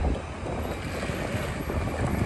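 Steady wind buffeting the microphone on a cold street in Tokyo, a continuous low roar and rush with no voices, close and fairly loud throughout.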